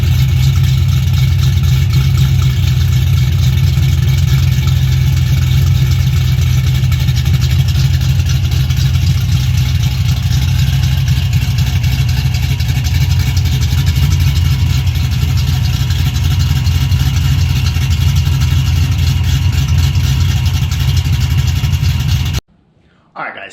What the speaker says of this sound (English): we're going to start off with cam chop, and that is my buddy Eric Williams, Vortex Supercharged, small block Ford